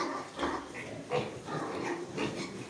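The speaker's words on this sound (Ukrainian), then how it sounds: "Кому потрібні будуть свинки, тут багатенькі їх" Several pigs in a farm pen grunt and snuffle nearby, rough low calls coming in uneven bursts every half second or so, with no talking.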